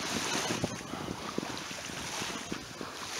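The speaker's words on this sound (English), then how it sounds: "It's a windy day" Steady wind buffeting a microphone outdoors while fishing from rocks by the water, a broad rushing noise with faint water sounds and occasional thumps, no talking.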